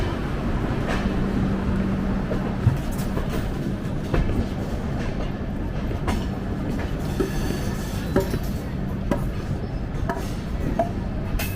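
Udyan Express passenger train running through the Lonavla ghat section, with a steady loud rumble and rhythmic clickety-clack of wheels over rail joints, heard continuously from inside the coach without talk.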